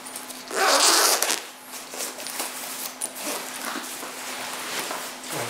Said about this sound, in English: Gonna zip this up.